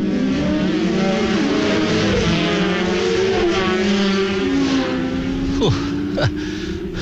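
125cc and 400cc racing motorcycles, including a 400 Kawasaki, roar away from the start of the Southern 100 road race, a dense, loud, continuous engine drone with rising revs near the end.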